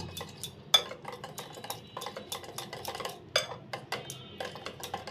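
A spoon stirs batter for aloo chop, mixed with baking powder and black cumin, in a bowl, making quick irregular clinks and scrapes against the side, sharp and close with brief pauses between strokes.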